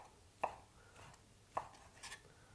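A knife slices thin strips of bacon on a board, two sharp cuts about a second apart plus a softer tap, close and quiet over faint background hiss.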